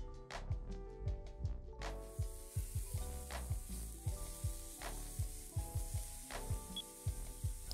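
Poultry pan-searing in butter in a frying pan, a steady loud sizzle with repeated scraping and clinking of a utensil against the pan in an irregular rhythm, with no voices.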